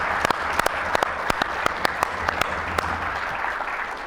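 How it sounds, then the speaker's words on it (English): An audience claps steadily in a room, a dense round of applause with a few sharp, loud individual claps standing out. It holds even for the whole stretch and no talk is heard. "So I'm going to ask everyone just to give a round of applause."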